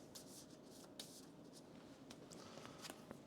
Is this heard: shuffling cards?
yes